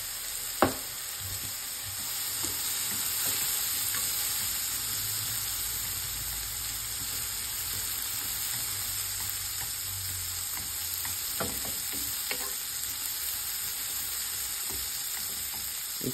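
Steak seasoned with pepper and garlic searing in a frying pan, a steady close sizzle and crackle that holds without pause, with a few small pops and clinks.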